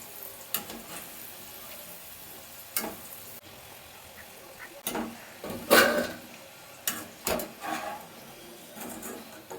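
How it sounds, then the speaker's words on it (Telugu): Potato pieces frying in oil in a pan for aloo manchurian, a soft continuous sizzle with scattered louder crackles and stirring clatters, heard close up with no talking. "సో ఇలా ఫ్రై అవ్వాలి మరి డార్క్ బ్రౌన్ అవసరం లేదు లైట్ బ్రౌన్ అయితే సరిపోతుంది"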